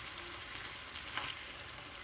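Chicken pieces fry in a skillet with a steady, faint, hissing sizzle, a brief soft scrape breaking the even crackle midway, no voices.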